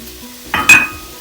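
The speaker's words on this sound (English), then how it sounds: "Get your pan nice and hot. Straight in with your onion. And straight in with your garlic and your ginger." Onion, garlic and ginger tipped into a hot pan of oil for a katsu curry, a short clatter of pan and utensil followed by a brief burst of sizzle that quickly fades, close and fairly loud.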